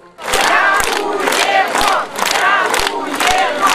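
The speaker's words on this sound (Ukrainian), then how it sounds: "підтримали своїх захисників словами подяки та гучними оплесками" Several hundred people gathered on a city square in Kirovohrad cheer and shout together, a loud, dense crowd roar that swells in repeated waves, with sharp thumps and heavy clapping mixed in throughout.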